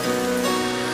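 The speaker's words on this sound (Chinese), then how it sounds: "下雨了，下雨了！" Steady rain falls across the whole second, a dense even patter with a sustained tonal hum running underneath.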